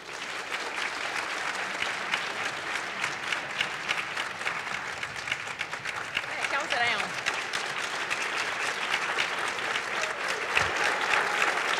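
An audience at a women's agricultural leadership summit applauds steadily for about twelve seconds, dense clapping from many hands in a hall, fairly distant and even, swelling slightly toward the end.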